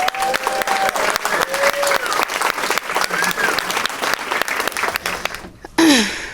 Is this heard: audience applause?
yes